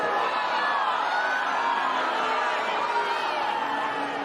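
Tennis crowd at a match reacting to Just Stop Oil protesters scattering orange confetti and jigsaw pieces on court: a steady, dense roar of many voices with cheers and whoops, loud and continuous throughout.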